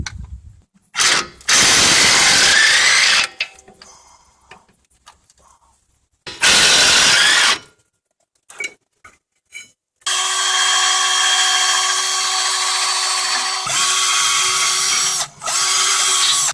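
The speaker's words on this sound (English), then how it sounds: "now I'll take the caliper bracket off" Bursts of a power tool removing the caliper bracket from a Lexus ES300 during a brake service, whirring loudly in two short spurts with clicks and clanks between, then a longer steady high whine.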